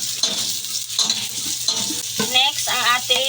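Garlic and onion sauté in oil for a chicken pochero, with close, lively sizzling and bursts of crackle as the pan is stirred.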